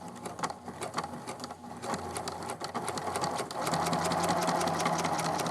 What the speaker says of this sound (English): slide it under the presser foot, do a couple of back stitches to secure it at the front end